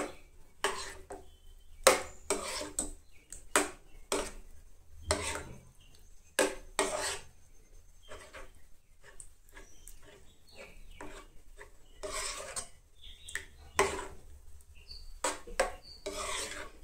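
Leftover rice dessert being mixed in a pot, a series of scraping, rasping strokes of a utensil against the pot, coming in uneven bursts close up with quiet gaps between them.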